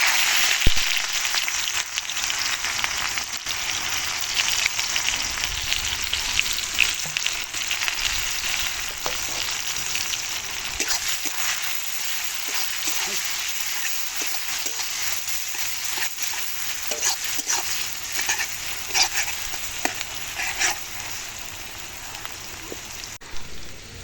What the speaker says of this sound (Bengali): তেল গরম হয়ে এসেছে এখন দিয়ে দিচ্ছি পেঁয়াজ কুচি